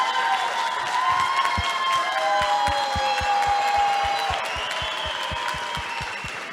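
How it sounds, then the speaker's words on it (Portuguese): An audience at a marketing talk cheers and applauds with chanting voices and loud rhythmic clapping in a steady beat, crowd noise sustained throughout. "Esperar as palmas aqui."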